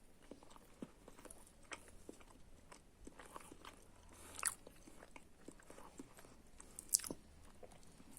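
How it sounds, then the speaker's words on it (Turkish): Bites and chewing of an Eti Süt Burger snack cake, with soft rhythmic crunching and munching close to the mouth, quiet and steady with a couple of louder bites. "Yani şuradan bir ısırık aldım."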